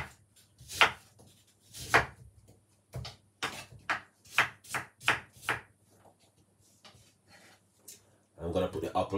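An apple is peeled by hand for a bedtime juice, giving quiet, crisp, irregular scraping and cutting snaps spaced a second or so apart, close by with no talk, and a short rustling burst at the end.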